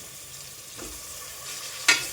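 Ingredients for a jackfruit recipe, including onion and crushed jackfruit seeds, fry in a pan with a soft, steady sizzle, a couple of brief stirring scrapes and a sharper clink near the end.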